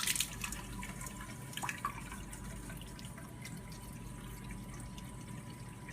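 Water from a filled graduated cylinder being drawn up through an aspirator suction tube in a fluid mechanics lab, giving faint trickling and drip-like sounds over a low, steady background hiss.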